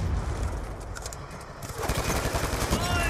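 Gunfire in the shooter game Black Ops 2, rapid automatic bursts crackling in the second half after a quieter stretch of ambient game noise, fairly close and loud.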